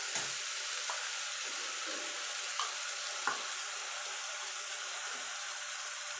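Ginger, garlic and green chili paste sizzling in a hot pan, a steady bright hiss with a few soft clicks and taps from stirring.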